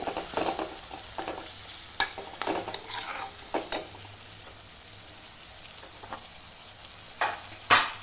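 Tomatoes fry in oil for a potato curry, giving a soft, steady sizzle broken by several sharp stirring clinks and scrapes against the pan, fairly close and without any talking.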